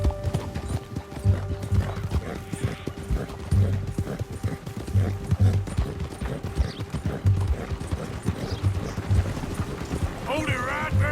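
Steady hoofbeats of a galloping horse in Red Dead Redemption 2 drum along in a rapid rolling rhythm, close and continuous, with a brief whinny near the end and a voice talking over it.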